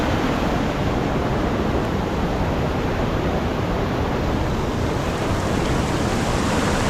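Devkar Falls near Yellapur, Uttara Kannada, produces a continuous, dense, loud rushing roar of falling water that stays steady and unbroken throughout, with no voices.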